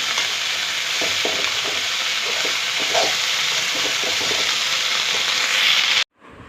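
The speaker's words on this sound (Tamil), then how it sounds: "இப்போ தும்பக்கீரை எடுத்து வச்சுருக்கோம், நல்லா அலசி வச்சு அதை ஆட் பண்ணிக்கலாம். நல்லா வதக்கி விட்டுக்கலாம்." Thumbai greens sautéing in a hot pan give a steady, loud sizzle with light scraping of the stirring spoon throughout, ending abruptly in near silence.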